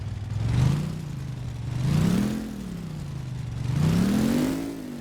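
Engine of an off-road car on a home garage build turns over slowly, then revs up and down in three rising and falling surges, a close, steady mid-pitched drone with faint clatter.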